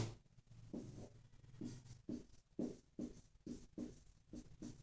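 Pen or chalk writing by hand while working a Class 10 maths problem on a circular field's area and ploughing cost. Rhythmic scratchy strokes repeat about every half second, close and quiet, with no speech.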